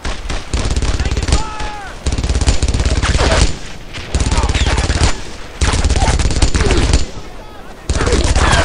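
Heavy gunfire in the WWII shooter Brothers in Arms: Earned in Blood, loud and continuous bursts of rifle and machine-gun fire with shouting voices mixed in, briefly pausing between volleys.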